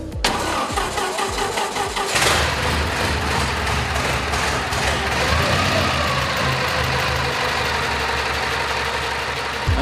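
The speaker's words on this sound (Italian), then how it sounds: "la pressoché sconosciuta americana Mercer, una 4 cilindri del 1907 che è ormai pressoché ultimata, tanto da poterla sentire in moto" A 1907 Mercer American four-cylinder car engine starts up and runs, catching after initial cranking and then settling into a loud, rough, steady idle with rapid rhythmic firing, close by and without talk.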